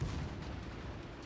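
Torpedoes striking a warship in a naval combat video game, heard as a loud, heavy, booming low rumble of explosions that fills the short moment without pause.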